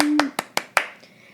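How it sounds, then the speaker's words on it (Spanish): Applause for Jonah comes as a few sharp, separate claps, about four distinct bursts spaced roughly evenly and close, with a brief tone fading out at the start and quiet afterward. "Aplausos para Jonah."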